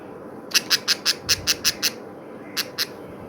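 An injured baby parrot screeches in a fast run of eight sharp, harsh squawks, then pauses before two more. The calls are loud and close over a low background rumble.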